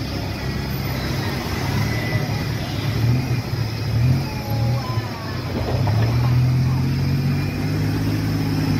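A tuk-tuk carries passengers along Loi Kroh Road, its small engine buzzing steadily nearby with slight surges and rises in pitch, under a background of street noise.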